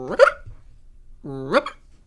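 A person imitates a sleeping, dreaming dog's hiccup sound with two short, sharp voiced yelps spaced about a second apart, close and otherwise quiet.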